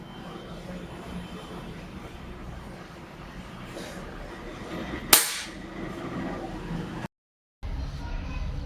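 A PCP air rifle fires a single sharp, loud crack at a Rin soap bar, close by, over low background hum, followed by a brief silence.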